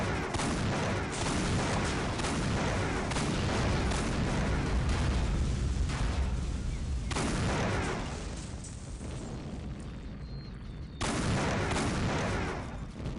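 Rocket blasts from the video game Postal 2 pound in rapid succession, loud booming explosions overlapping into a continuous barrage, with brief dips before another burst of detonations.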